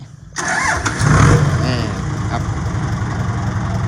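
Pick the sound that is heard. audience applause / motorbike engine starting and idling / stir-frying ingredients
motorbike engine starting and idling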